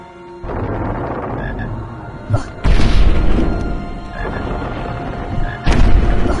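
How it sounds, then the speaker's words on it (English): A chocolate frog in the Harry Potter Chamber of Secrets video game gives repeated loud, close croaks with heavy low thumps, over a continuous game background. "Chocolate frogs replenish some of your stamina."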